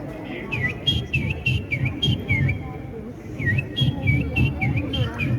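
A man imitates a morning bird call in a courtyard with a rapid series of bright, whistled chirps. The chirps repeat in quick uneven bursts that sound close and fairly loud, with a short pause in the middle.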